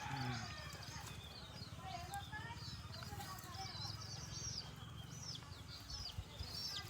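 Chickens cluck and chirp around an adenium desert rose plant in a home garden, with scattered bird calls and a low murmur of voices throughout.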